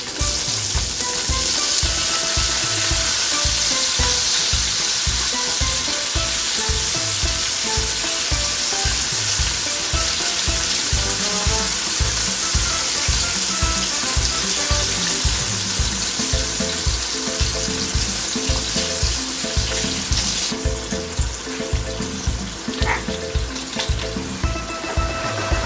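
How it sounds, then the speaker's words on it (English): Water poured into a hot pot of sizzling salmon and vegetables brings a loud, steady frying hiss with regular stirring scrapes, close by and sustained, shifting to a brighter rush of liquid near the end. "Now I'm going to pour in some water."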